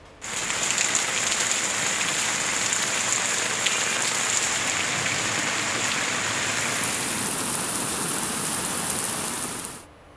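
Heavy monsoon downpour in Punjab hisses steadily and densely on surfaces for about ten seconds, loud and unbroken, then cuts off abruptly.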